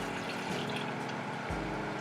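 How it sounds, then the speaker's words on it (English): Milk poured into a pan already holding a little ghee, ahead of the sugar, gives a steady liquid rush that swells into a fuller flowing pour near the end, with no talk. "Pour some milk in here."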